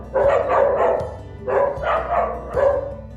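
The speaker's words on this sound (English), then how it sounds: "My dogs are trying to chew somebody." Dogs bark close and loud indoors in three separate bursts, with gruff barks and short yips and nobody talking over them.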